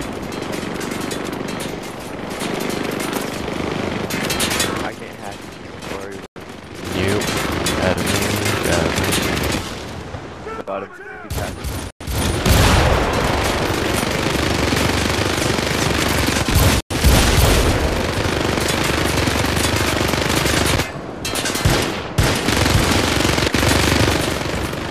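Minigun fire in the video game Syndicate, a loud, dense sustained rattle of rapid shots that roars almost continuously with a few brief breaks, close and overwhelming.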